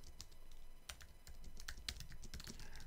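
Quick, uneven keystrokes on a computer keyboard, close and quiet, tapping in short bursts with a faint room hiss underneath and no talking.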